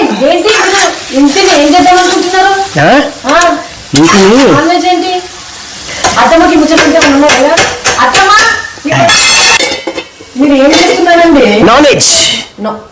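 Metal cooking pots and vessels clanking and scraping while chicken is prepared outdoors, with frying sizzle and stirring, loud and close, under near-continuous talking.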